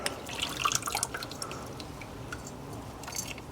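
Tap water running and dripping as an old Yamaha AT-1MX motorcycle part is rinsed, a faint irregular splashing trickle with small drips, fairly quiet and steady, no voices.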